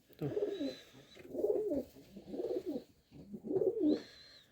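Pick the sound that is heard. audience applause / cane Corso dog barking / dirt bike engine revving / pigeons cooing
pigeons cooing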